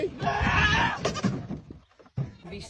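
A stuck goat on a farm bleats loudly and close, a strained cry lasting about two seconds, followed by a shorter call after a brief gap.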